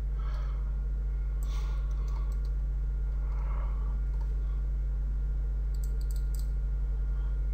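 Computer mouse clicks during 3D modeling work in 3ds Max: a few faint, sparse clicks with light tapping over a steady low electrical hum, with no talking.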